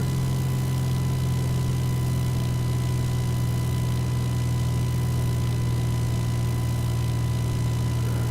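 A simulated aircraft engine in X-Plane 11 drones steadily at a constant, fairly low pitch with a cockpit hum beneath, held level with no audible change in power and no voice over it.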